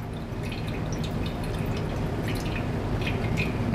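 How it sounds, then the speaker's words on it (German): Tomato liquid trickles steadily through a sieve with a continuous gentle splashing, like a small waterfall, close and even throughout. "dann hören Sie es ja schon leicht plätschern"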